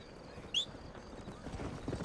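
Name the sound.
horse hooves clip-clopping, from a video game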